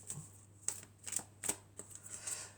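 Tarot cards are shuffled by hand in several quick, crisp riffles and flicks, close and fairly quiet, with short gaps between bursts and no voice over them.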